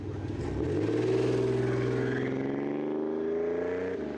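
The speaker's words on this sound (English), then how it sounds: "Then you got this really growly, 4-stroke, huge sounding exhaust." A loud, deep growling four-stroke car exhaust with dual six-inch pipes drones steadily up close, its rumbling pitch swelling and then easing off.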